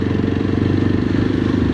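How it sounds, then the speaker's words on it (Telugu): Motorcycles pull into the parking area of a temple in Warangal, giving a steady, close engine rumble with a low throbbing idle that holds level for the whole moment, without pauses. "బైక్స్ కూడా వస్తున్నాయిగా"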